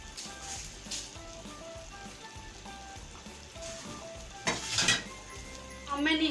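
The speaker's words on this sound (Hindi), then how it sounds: "अब मैं इसमें ऐड कर दूंगी फ्राई किए हुए प्याज।" Crushed fried onions drop into a pot of beef nihari, giving a burst of sizzling and clinking near the end over a steady simmer, with background music throughout.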